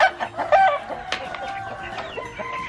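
Native chickens clucking and calling nearby on a farm, a rooster crowing among them, with repeated overlapping squawks and clucks filling the whole stretch and no talk.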